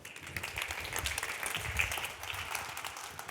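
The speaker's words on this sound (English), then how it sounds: "Please welcome Dr. Soneji on stage with a big round of applause" An audience at a dental industry speakers corner applauds to welcome a presenter on stage, a soft, diffuse wash of clapping heard at a distance and at low level.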